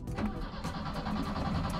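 A drift-built Nissan Silvia S14A making over 320 hp with a widebody kit, its engine cranking and catching into a rough, pulsing rumble heard close from inside the car.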